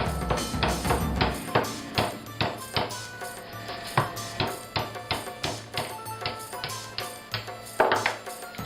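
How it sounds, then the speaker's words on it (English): A hammer drives a screwdriver into a coconut to open it. The strikes land in a steady run of sharp, close, evenly paced taps over a constant tonal background hum. "So here we are, gonna open up the coconut."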